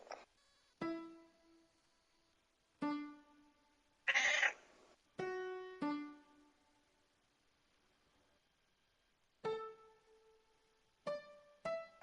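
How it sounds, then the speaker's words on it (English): House cat meowing loudly, a series of about eight separate drawn-out meows spaced by short silences, close and clear, with no voices. "My cat be really loud, honestly."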